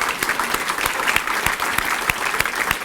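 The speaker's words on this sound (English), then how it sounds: "can we give another round of applause for Eva Phillips Boyd" Sustained audience applause at a school Founders' Night event fills the hall, with individual sharp claps standing out rhythmically from the dense crowd clapping, steady from start to finish.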